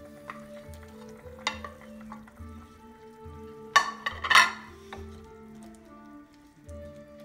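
Potatoes go into a pot of Rohan stew with a few clattering drops and stirring, under a low sizzle that continues throughout at close range, with no voices.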